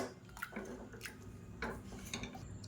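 Faint, soft clinks and squelches come from a masher pressing cooked pumpkin, lentils, onion and tomato in a pan for sambar, with a few light metallic taps.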